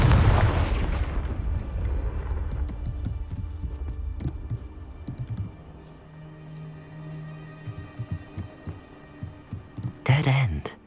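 A blast from the Confringo fire spell in Hogwarts Legacy opens with a loud booming burst that fades into a low rumble, followed by quieter thuds and a sharp flaring burst near the end.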